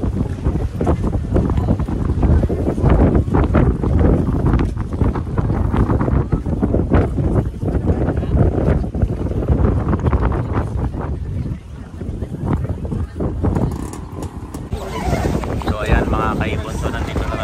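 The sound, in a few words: strong wind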